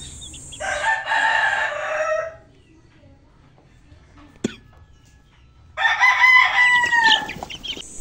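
Month-old chickens on a farm break into two loud bursts of clucking and crowing calls close by. A quiet stretch with one sharp knock separates the bursts.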